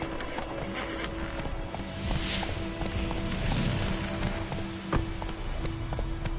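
Roach, a horse in the video game The Witcher 3, gallops with a steady rapid clip-clop of hooves, close and continuous, over faint background game ambience.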